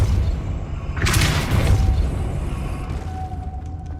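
Depulso spell cast in the video game Hogwarts Legacy, a loud booming burst with a whooshing rush of noise over a low rumbling game backdrop, followed by a fading mechanical hum.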